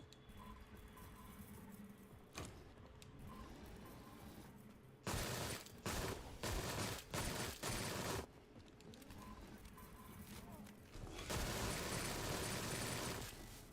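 A PPSh submachine gun fires in the video game Sker Ritual: loud, rattling bursts of automatic fire break out twice over a quieter background, the second volley longer and sustained.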